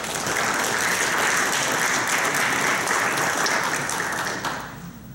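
A lecture audience at a mining safety institute gives a strong round of applause to welcome a doctor to the podium. The clapping is loud, dense and continuous, then begins to fade in the last moment.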